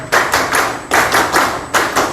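Bursts of audience clapping greeting guest Jesús Salazar at a Peruvian political debate, three loud waves of applause in quick succession, each lasting about half a second to a second.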